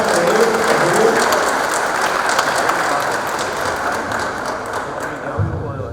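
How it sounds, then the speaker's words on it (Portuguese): An engineering congress audience in a hall applauds steadily, a dense rain-like patter of many hands that slowly fades. "pedir para o senhor que vá para uma salva de palmas para ele, por favor."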